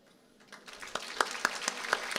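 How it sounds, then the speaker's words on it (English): Applause for the founders at a university major inauguration ceremony swells from near silence into moderate clapping from an audience, rising over about two seconds and continuing. "A round of applause for our founders."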